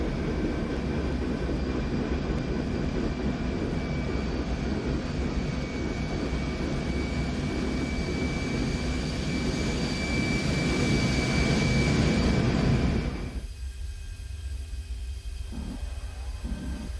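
A CRJ-200 jet roars with its thrust reversers deployed in the X-Plane 11 flight simulator, a loud, dense, steady rush of engine noise that drops off abruptly near the end, leaving a quieter whine.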